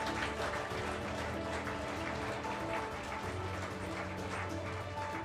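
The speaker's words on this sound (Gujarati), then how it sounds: "આ દીકરી માટે તાળીઓનો ગડગડાટ બંધ ના થવો જોઈએ." An audience at a Women's Day award ceremony applauds steadily for an award recipient on stage, with sustained, even clapping and no talk.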